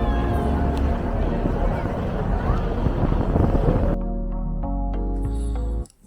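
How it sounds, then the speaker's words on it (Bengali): A passenger ship, the MV Tajuddin, sails from Chittagong toward Hatiya with a loud, steady roar of wind and engine noise. It gives way to quieter tonal music and a sudden brief drop at the end. "চলছে জাহাজ চলছে জাহাজি ও যাত্রীদের ভাসমান জীবন না জানান দিয়ে কখনো সেই জীবনে হারা দিচ্ছে আচমকা হাওয়া ও সাগরের ঢেউ"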